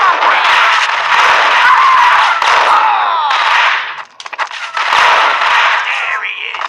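Gunfire in the Max Payne Mobile video game, a dense crackling burst of shots that runs for several seconds, breaks off briefly, then starts again, mixed with game noise and voices.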